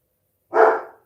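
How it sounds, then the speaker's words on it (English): A single dog bark, one short loud close woof against silence. "Dealing with the dog."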